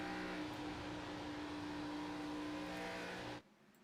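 On-board engine of a NASCAR Grand National Series car in a racing sim at Darlington, a steady sustained drone holding a constant pitch, loud and close, cutting off abruptly near the end.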